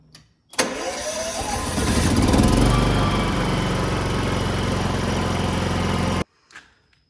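A small engine is started ahead of servicing. It cranks and catches, then revs up and settles into a loud, steady close-range idle for several seconds before cutting off abruptly, with no talking.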